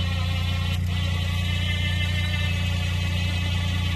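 An old 2,500-pound winch drags a vehicle during a recovery tow, making a steady, loud mechanical whir and drone that holds without pause, with a brief faint tick near the start and no talking.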